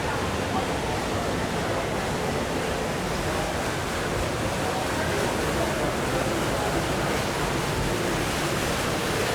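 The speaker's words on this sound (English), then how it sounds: "Chelsea Market waterfall." Steady, loud rushing wash of falling water from the indoor waterfall at Chelsea Market in New York City, a continuous broadband roar filling the whole stretch without pauses.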